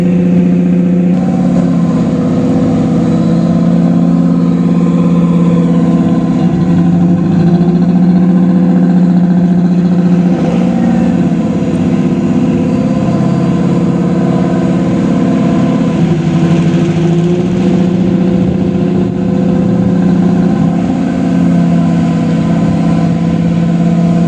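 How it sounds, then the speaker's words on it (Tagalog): A tugboat engine runs at a strong, constant throb with a low, steady drone that persists for the whole stretch, loud and close with little variation. "Lakas ng tugboat nila."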